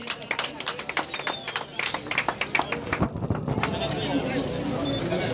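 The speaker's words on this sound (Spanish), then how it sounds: "¡Fuerte el aplauso para ella!" Audience applause for a second-place surfer at a surfing prize ceremony, a burst of scattered clapping and crowd noise that fades after a few seconds into a steady outdoor hubbub with voices.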